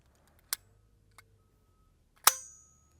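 A .22LR rifle fitted with a Dead Air Mask suppressor and firing subsonic ammunition gives a sharp, quiet crack with a short tail, preceded by smaller clicks and taps, with no talking.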